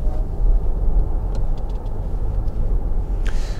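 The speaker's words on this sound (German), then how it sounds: "gebe ich hier nochmal kurz elektrisch Gas" A 2020 Ford Tourneo Custom plug-in hybrid van accelerates on electric power, with a steady, close, low rumble of road and drive noise throughout and no talking.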